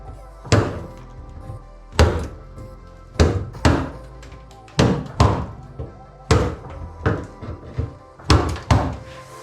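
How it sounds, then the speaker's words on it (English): Hammer driving a chisel into a Mazda Miata's trunk panel to break it out, a series of heavy, hollow metallic thunks in irregular bursts, close and loud, with no talking. "take a chisel with a hammer and try and bust it out"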